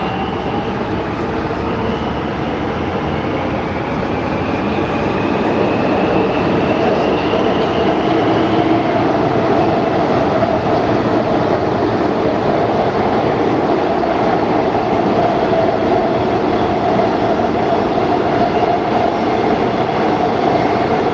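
Warsaw metro train in motion, heard from inside the car: a loud, steady rumble and roar with rising whine tones running throughout, no voices.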